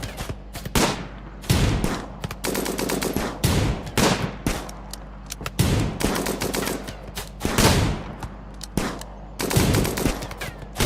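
Colonists fire guns in the RimWorld video game, rapid bursts of loud crackling gunshots repeating in quick volleys across the whole stretch, with no talk over them.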